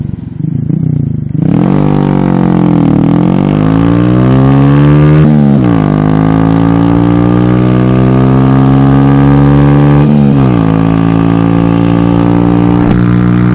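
A Honda Grom motorcycle engine is heard while riding, loud and close throughout, revving up in pitch and easing back several times as it climbs through the gears.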